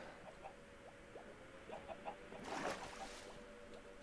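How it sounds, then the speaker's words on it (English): Minecraft chickens cluck in soft, scattered bursts against a steady hiss of background noise, faint and somewhat distant, with a louder burst of noise in the middle. "And I hear chicken everywhere."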